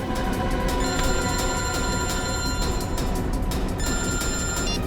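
A telephone rings in a steady repeating electronic pattern, loud and close, over a dense background of noise, with no talking.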